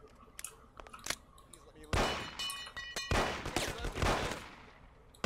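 Gunfire during a police chase in the video game Mafia, with scattered single shots followed by heavier loud bursts and rapid volleys, while a player talks over the action.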